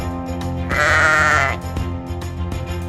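A sheep bleats once, loud and close, a wavering nasal call lasting under a second over a steady tonal music bed.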